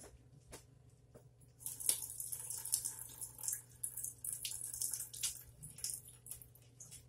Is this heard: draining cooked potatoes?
yes